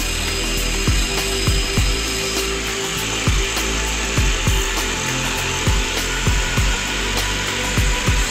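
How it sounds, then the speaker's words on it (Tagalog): An angle grinder cuts through PVC pipe for a concrete boundary-post mould. It whines loudly and steadily, with a regular series of sharp, close-up bite-and-release pulses roughly every half second and no talk. "Mas mainam gumamit ng grinder sa pagputol ng PVC pipe para sa paggawa ng mohon"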